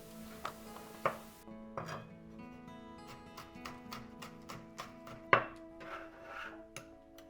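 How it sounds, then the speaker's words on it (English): Knife chopping spring onion on a board for braised pork belly with chestnut: a run of irregular, close taps and thuds, one sharper knock midway, with no talk. "Chop the spring onion."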